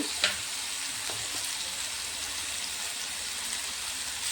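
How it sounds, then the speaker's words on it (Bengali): Potatoes and squash frying in oil in a pan, with salt and turmeric added, give off a steady, even sizzling hiss close by, broken only by one brief clink near the start. "এখন আমি এই সবজি কিছু আলু আর কোয়াশ দিচ্ছি এগুলো এখন একটু ভাজি করে নেব"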